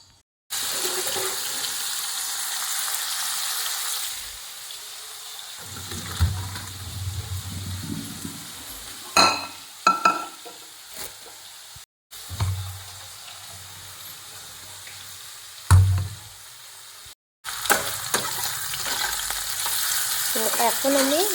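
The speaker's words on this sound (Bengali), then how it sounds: "ম্যাগিটা ভালো করে ভেজে নিচ্ছি সবজিটা ভেজে তারপর ম্যাগিটা দেবো" Chopped beans, broccoli, carrot and onion stir-fried in a pan for Maggi noodles, a hissing sizzle broken by scraping stirs and brief gaps, with occasional louder thumps.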